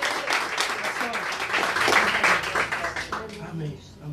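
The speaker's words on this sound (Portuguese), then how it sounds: "Você pode aplaudir ao Senhor?" A church congregation applauding during a sermon, steady clapping with voices and exclamations mixed in, fading toward the end.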